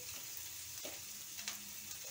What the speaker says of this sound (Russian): Здесь буду жарить. Вначале сало обжарю.